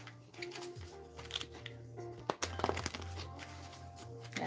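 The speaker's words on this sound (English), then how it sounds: "I haven't used these in a while, so I just want to make sure they're well shuffled." Cards are riffled and shuffled up close in quick papery bursts, with a sharp snap midway, over a low steady hum.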